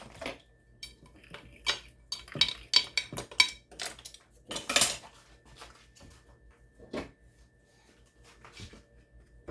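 A spoon clinks and scrapes against a bowl while cake filling is mixed, giving a cluster of quick, close taps and knocks that thin out into occasional scrapes.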